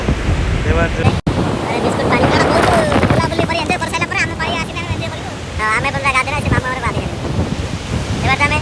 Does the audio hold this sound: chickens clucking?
no